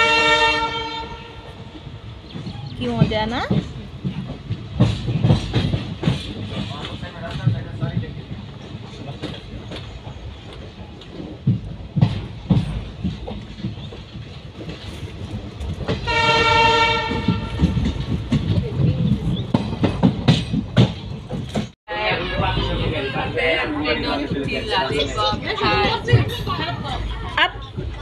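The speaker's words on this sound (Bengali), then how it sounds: "এদিকে দেখো ট্রেনটাও ছেড়ে দিয়েছে" A passenger train pulls away and rolls along, its horn blaring in loud sustained blasts at the start and again midway, with rumbling wheels and rail clatter running throughout while people chat nearby.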